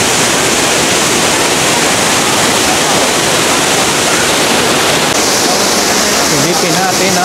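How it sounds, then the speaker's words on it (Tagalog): Aliw Falls pours in a steady, loud, broadband roar of falling water after rain, filling the whole stretch without a break while a crowd of visitors is nearby. "Silipin natin ang Aliw Falls."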